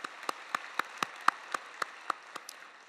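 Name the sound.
church congregation applause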